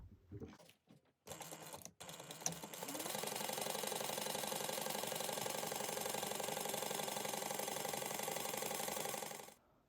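A sewing machine runs a continuous stitching burr on backpack fabric at a 3/8 inch seam, with a few handling clicks and short starts at first, then one long steady run ending abruptly.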